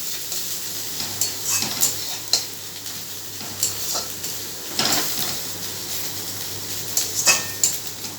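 Garlic and ginger sizzle together in a pan while a utensil scrapes and stirs, with soft metallic clinks of the spatula against the pan repeating irregularly. The sizzling is steady and close.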